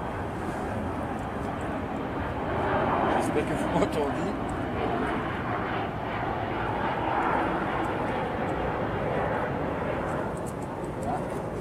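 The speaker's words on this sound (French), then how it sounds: "un avion va passer" An airplane passes low along the landing runway line of Liège airport, a steady broad roar that swells slightly midway and lingers throughout, with someone speaking French close by over it.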